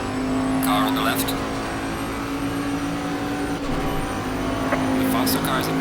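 Race cars in Assetto Corsa Competizione at Zandvoort, a 2021 Bentley GT3 among them, hold a steady loud engine drone while a rival runs alongside on the left, with brief brighter bursts of engine noise. Voices speak over the racing.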